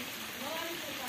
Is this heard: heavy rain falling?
yes